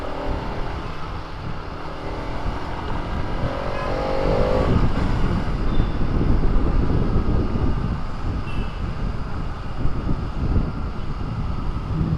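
A Bajaj Pulsar RS200 motorcycle rides along at moderate speed with a steady engine drone and broad road and wind rumble, swelling slightly midway, close and loud with no talking.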